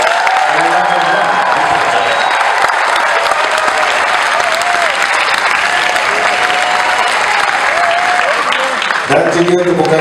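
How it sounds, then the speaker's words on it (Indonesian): Concert audience cheering and applauding for an orchestra at a performance, loud continuous clapping with shouts and whistles, a voice speaking over it near the end. "saya nak dengar jeritan dan tepukan untuk orkestra"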